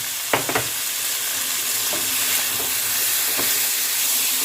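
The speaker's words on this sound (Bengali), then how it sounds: "মশলার সঙ্গে আলু আর কুমড়োটাকে খানিক্ষণ কষে নেব" Potato and pumpkin fry with spices in a pan, giving a loud, steady sizzle and hiss with a few brief clinks of stirring near the start, and no talk.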